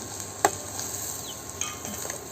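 Food sizzles steadily in a frying pan, a soft continuous hiss with a single sharp utensil clink near the start and a few lighter clicks later.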